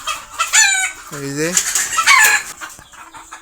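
Chickens cackle and cluck agitatedly after a mongoose attack, loud and close, with a short spoken remark over the calls.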